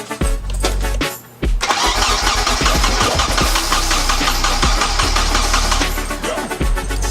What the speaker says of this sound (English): Then you crank the car for a couple seconds.